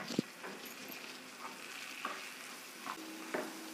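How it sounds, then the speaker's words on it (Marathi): Drumstick (moringa) leaves are stir-fried in a pan with onion and lentils. Soft sizzling runs under a handful of separate scraping strokes of a spatula, spaced about half a second to a second apart, with no voices. "असं छान परतून घ्यायचं"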